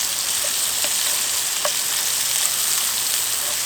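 Potatoes frying crispy in a pan at a campsite on the Oregon coast, a steady bright sizzle with a few small pops, continuous and alone.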